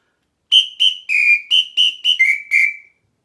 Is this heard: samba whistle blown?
yes